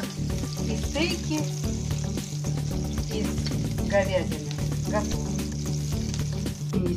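Beef steaks sizzle and crackle steadily while frying in a pan, a dense, continuous hiss with sharp pops; a voice briefly speaks over it.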